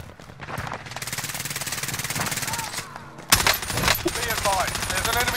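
Rapid automatic fire in the shooter Warzone (Rebirth) from a FARA and CX-9 loadout: continuous fast-rattling bursts throughout, with a louder, sharper volley partway through.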